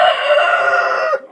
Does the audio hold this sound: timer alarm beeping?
no